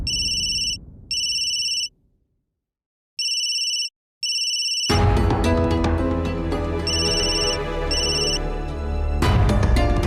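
A telephone ringtone sounds in repeated electronic bursts, first alone with pauses of near silence, then continuing over loud music in a Hindi TV drama scene.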